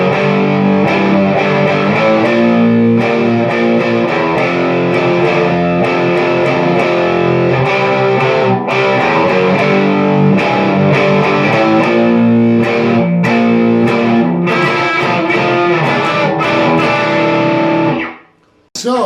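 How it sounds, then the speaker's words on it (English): A distorted electric guitar in normal tuning plays the chorus of a song, dense and continuous with driving chord strums for about eighteen seconds before cutting off abruptly. "the chorus on the normal tune guitar sound like this"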